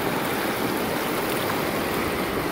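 Mountain stream at Hatcher's Pass, Alaska, rushing steadily over rocks in a loud, continuous broadband wash, heard up close with no voices.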